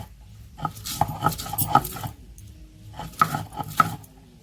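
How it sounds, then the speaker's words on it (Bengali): Ginger and garlic being ground together into a paste, heard as two bursts of rhythmic grinding and knocking strokes with a gritty, scraping texture, close and fairly loud, separated by a short pause. "আদা রসুন একসাথে বেটে নিচ্ছি"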